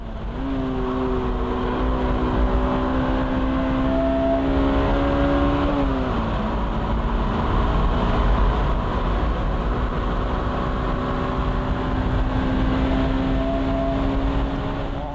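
Loud, sustained engine drone of a Honda NSX Type R pulling down a straight, the pitch rising steadily before a brief dip at a shift, then climbing again, heard from close inside.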